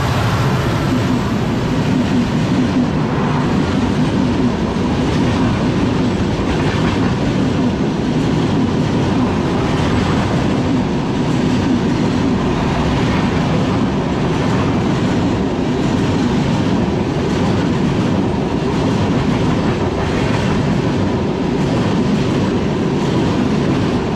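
An Intercity train rolls steadily past a halted superfast express near Lahing, a loud, continuous rumble with rhythmic clickety-clack of wheels on rail joints that persists throughout.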